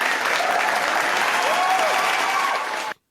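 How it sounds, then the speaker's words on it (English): A large audience breaks into loud, sustained applause with a few faint cheers mixed in, a thick continuous roar of clapping that cuts off abruptly at the end. "That was an appropriate applause."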